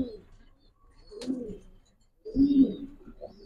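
Pigeons at a farm keeping high flyers, racers and fancy breeds give two separate low, throaty coos, close and clear against a quiet background.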